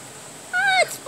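A duck at a holiday spot gives a single high, rising-then-falling call, close and fairly loud, standing out from a quiet background.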